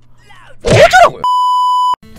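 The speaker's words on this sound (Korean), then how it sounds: "뭐야, 전화가 왔네요?" A phone call rings in a Pokémon-themed Minecraft game: a brief burst of game sound effects followed by a single sustained electronic ring tone of about 0.7 seconds, loud and clean, then a short chime.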